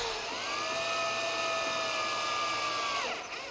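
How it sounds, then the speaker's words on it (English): A power drill with a 3/32 inch bit bores pilot holes for screws while a fold-down outfeed table is built. It whines at a steady high pitch for about three seconds, then spins down, close and loud with no talk. "using a 3/32 inch drill bit, I'll drill the pilot holes for our screws"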